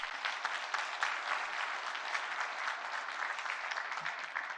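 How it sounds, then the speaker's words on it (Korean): A church congregation at a New Year's Eve service applauds: dense, even clapping from a large crowd that holds steady for several seconds, full and reverberant. "그래서 박수 한번 더 하겠습니다."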